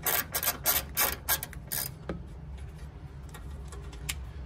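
A ratchet loosens a 10 mm bolt holding the plastic coolant expansion tank on an Alfa Romeo Giulietta 1.4 MultiAir: a quick burst of close, crisp clicking, then quiet shop background.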